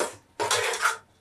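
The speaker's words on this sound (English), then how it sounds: "I will stir and allow it to boil" Quick stir of Nigerian okra soup with blended Scotch bonnet pepper and onion in a pot, a brief close scraping of a utensil against the pot, two short bursts with no talk.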